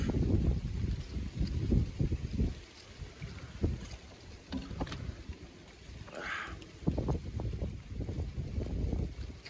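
Steady stormy wind gusting and buffeting outdoors, with low rumbling bursts and some splashing, fairly loud and continuous throughout.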